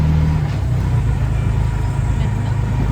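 An auto rickshaw (tuk-tuk) engine gives a steady, loud, close rumble that runs unbroken throughout, with a heavy low drone and no clear pauses.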